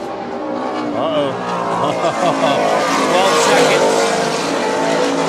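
Super Cat racing powerboats at the Key West World Championships, a loud steady roar of engines passing at speed with a commentator talking throughout.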